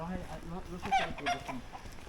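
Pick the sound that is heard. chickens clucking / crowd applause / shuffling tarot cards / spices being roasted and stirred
chickens clucking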